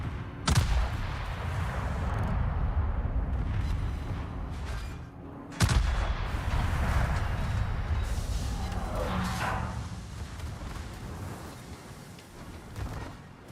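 Secondary guns on a warship firing in the World of Warships video game, two heavy booming salvos near 0.5 and 5.7 seconds, each trailing into a long rumbling roll of battle noise, loud and close.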